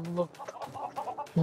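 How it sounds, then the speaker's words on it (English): Chickens cluck in a Lego Worlds video game, a run of short rhythmic clucks repeating close and clear, ending with a louder squawk. "Chickens!"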